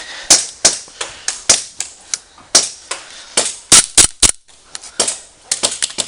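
Airsoft guns fire during an outdoor flag-capture skirmish, a long series of sharp cracking shots, some single and some in quick bursts, loud and near with no voices.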